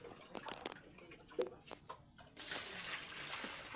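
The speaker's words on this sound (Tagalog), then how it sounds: "Kinukuha na natin yung tubig." Running water from a tap or poured flow starts partway through and gushes steadily and fairly close, after a stretch of scattered clatter and knocks as water is fetched at home.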